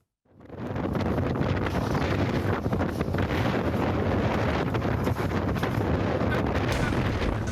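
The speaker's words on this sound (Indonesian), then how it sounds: "Inilah detik-detik angin kencang memporak-porandakan panggung utama dan puluhan tenda UMKM milik warga di Pantai Manakara" Strong wind sweeps Manakara beach, wrecking a main stage and tents. A sudden, loud, continuous roar buffets the microphone and stays steady and heavy to the end.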